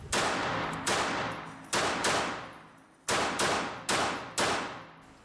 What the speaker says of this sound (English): Let's bump the target out to 36 feet and try some rapid fire.